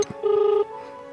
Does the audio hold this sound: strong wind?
no